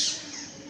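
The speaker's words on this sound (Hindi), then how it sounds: "ये देखिए तोते कैसे बैठे हुए हैं, ची ची कर रहे हैं।" A parrot perched outdoors in the morning gives a single brief, shrill squawk that fades quickly, heard at moderate distance with no talking over it.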